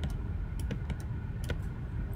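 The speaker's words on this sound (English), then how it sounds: "I'm actually hitting the space bar" Computer keyboard keys, including the space bar, pressed in a few scattered clicks over steady low background noise, with no voices.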